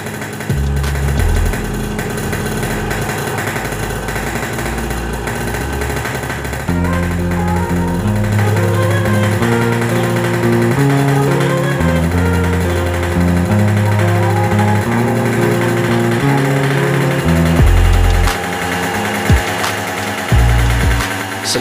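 A Yamaha RX series two-stroke motorcycle idles steadily while its carburetor is being tuned, a loud close engine hum with a shifting pitch and small revs, running alone throughout.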